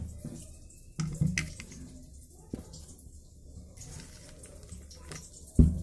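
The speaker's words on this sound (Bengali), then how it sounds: "মশলাটা একটু জল দিয়ে ছেঁকে নেব।" Mustard spice paste is strained with water in a home kitchen, giving soft splashing and trickling water sounds with a few sharper knocks and one loud clatter near the end, with no talk.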